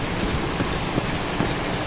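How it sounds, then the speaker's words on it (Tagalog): Light drizzle falling outdoors, a steady soft hiss of rain with a few faint droplet ticks, continuous and even throughout. "Patulo na naman yung ambon."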